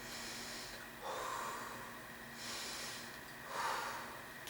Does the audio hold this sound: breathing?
yes